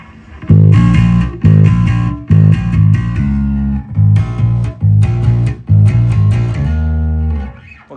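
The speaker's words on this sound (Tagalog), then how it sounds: "it also functions as a drive distortion" Heavy, gritty electric bass riff through a distortion preamp, with a driven, distorted tone, played in short repeated phrases with brief gaps, loud and up close.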